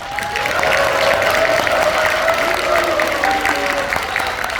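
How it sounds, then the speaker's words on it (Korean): An audience at a provincial agricultural meister program's seventh graduation ceremony applauds steadily and loudly throughout, with a few tonal sounds and possible faint voices mixed into the dense clapping. "여러분 더 큰 박수를 부탁합니다"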